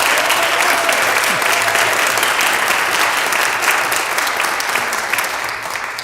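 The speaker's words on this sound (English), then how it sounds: "if we could just have one more round of applause for our whole speaker panel" Sustained applause from an audience at a public safety forum, honoring the speaker panel; dense, steady clapping fills the room at a constant loudness for about six seconds.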